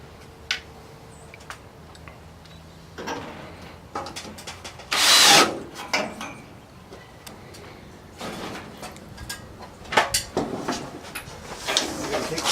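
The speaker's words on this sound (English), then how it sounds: "Mount it to the joist using 1/2 inch slip screws." A power drill drives half-inch screws into a wooden ceiling joist to mount an electrical box. Several short whirring bursts come at intervals, with one strong burst near the middle, while birds chirp in the background.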